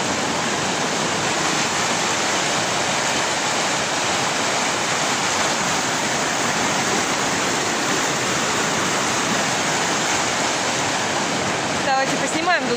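A river in Abkhazia rushes steadily over stones, a dense, continuous broadband roar close by that holds constant throughout, with a brief disturbance near the end.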